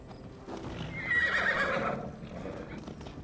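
A horse is ridden in Assassin's Creed Valhalla, with soft clip-clopping hooves and a brief whinny in the middle, heard at moderate distance and fairly quiet.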